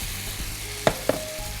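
Soybean chunks fry in hot oil for fish nuggets, a soft close sizzle with a couple of brief clinks of a utensil against the pan partway through.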